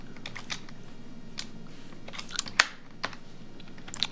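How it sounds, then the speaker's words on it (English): Keys tapped in short irregular bursts on a computer keyboard during a software demo, close and fairly quiet, with a few sharper clicks standing out and no talking. "I'm gonna type something like, okay."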